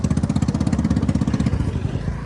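A motorcycle engine with a loud exhaust runs steadily nearby, a low rumbling chug that softens slightly in the second half.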